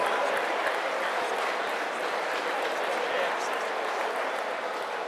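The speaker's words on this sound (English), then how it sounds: "Big round of applause, please, for both of these young men after three excellent rounds" Sustained applause from a boxing crowd in Manchester for two young boxers after a three-round bout, a dense, steady wash of many hands clapping at even loudness throughout with faint crowd murmur beneath.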